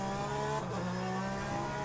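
A GT3 race car engine in the racing game Le Mans Ultimate holds a steady, loud, buzzing drone with a brief dip in pitch midway, then runs on evenly with no voices over it.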